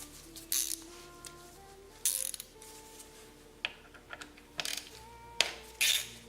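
A ratchet backs out the 5mm speed sensor bolt on a Yamaha XSR900 front wheel, giving short bursts of metallic clicking separated by brief pauses and small clinks, close up and with no voices.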